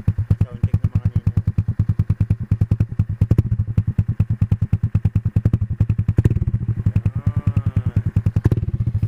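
A Rapid 150 motorcycle fitted with an LA Modified muffler and resonator idles up close, a loud, steady, rapid thumping exhaust pulse with occasional blips, while people talk over it.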